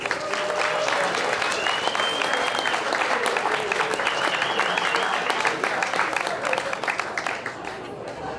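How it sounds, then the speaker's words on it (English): Audience applause at a bluegrass night at a lounge, a long, loud, sustained crowd clapping with cheers and whistles mixed in, and voices calling out underneath. "So give yourselves a big round of applause."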